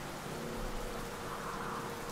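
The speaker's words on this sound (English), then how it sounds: "Rain rattles the windows." Steady rain beats against windowpanes on a stormy night in 1920, a dense, continuous wash of hiss with a low rumbling undertone, fairly quiet and even throughout with no voices.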